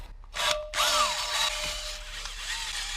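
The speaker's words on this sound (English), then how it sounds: "I'm gonna use this wire wheel and the drill." A power drill spins a wire wheel to scrub rust off the rear wheel hub of a 2016 Audi A3, a steady whirring grind with a scraping edge, close and alone, broken by brief pauses at the start.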